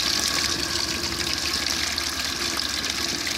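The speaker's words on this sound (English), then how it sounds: "Got the float box here, and as this fills up, this shuts off" Water gushes steadily into a float box in a barn, a constant close rushing fill with no breaks and no voices.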